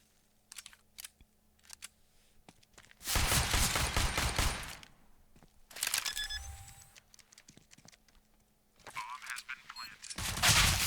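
Bursts of Counter-Strike gunfire on the Cobblestone map: a long sustained spray in the middle, then another burst, with scattered single shots and clicks between and a final flurry at the end.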